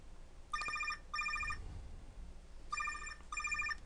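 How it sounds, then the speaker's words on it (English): A telephone rings in two double bursts of electronic trilling, separated by a short pause, sounding clear over a low room hum with no one speaking. "I'm gonna answer the phone."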